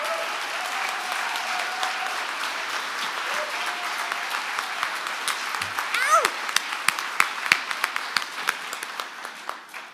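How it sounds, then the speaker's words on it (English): Audience applause at the Naturally Boulder annual pitch slam event, a sustained even patter of many hands that grows sharper and more distinct toward the end, with a brief voice or whoop partway through. "I want to applaud you for helping us achieve this goal."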